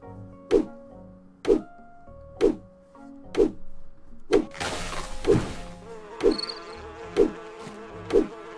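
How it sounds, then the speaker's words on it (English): Bees attack the player in the farming game My Time at Portia, a buzzing insect drone under nine evenly spaced impact thunks roughly a second apart, with a louder scuffle of hits in the middle. "can deal with the bees hitting me."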